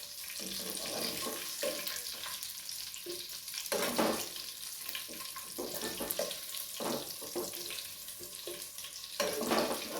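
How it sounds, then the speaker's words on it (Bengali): Chicken pieces frying in hot oil for a green hariyali chicken roast, a steady sizzle with occasional stirring clatters and utensil knocks. "পিসগুলো আমি তেলে দিয়েছিলাম সেগুলো মোটামুটি ফ্রাই হয়ে গেছে"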